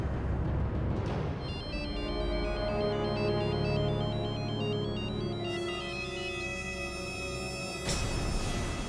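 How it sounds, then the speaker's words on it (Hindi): A phone ringtone plays continuously throughout, a melodic electronic ring with repeating tonal patterns, loud and close with no talking. "मैं मोक्ष को फोन लगाकर पूछती हूँ कि वो कहाँ है।"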